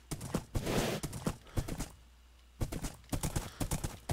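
Horse hooves clatter in quick, uneven bursts as a horse gallops in Minecraft, loud and close, with a short pause midway before the hoofbeats resume.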